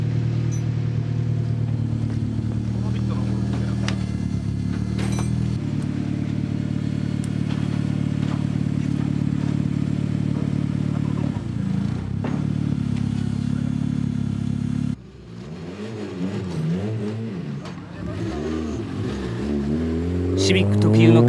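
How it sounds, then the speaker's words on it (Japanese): Honda Civic racing along a deserted back straight with a high-pitched exhaust note, rising and falling through gear changes, a steady drone followed by rapid revving sweeps, with speech at times. "シビック特有の甲高い排気音"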